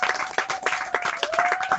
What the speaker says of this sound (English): That's why again clap for Baburam Prabhu.